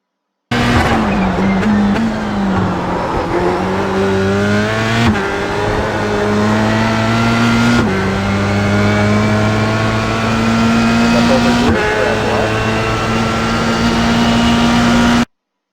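A Formula Sprint race car engine howls at Silverstone in iRacing, holding a loud, steady high-pitched note that climbs through the gears, drops sharply on downshifts near 5, 8 and 12 seconds, then rises again, close and continuous throughout.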